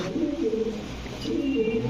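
Pigeons coo nearby in soft, low repeated warbling calls, several overlapping phrases close to the listener with no talking.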